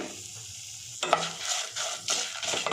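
Cardamom and coconut roast in a pan with a soft sizzle, broken by a few close scraping stirs.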